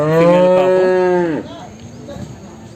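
A dairy buffalo at a Sunday buffalo market in Erragadda gives one long, loud, close moo lasting over a second, followed by quieter market background noise.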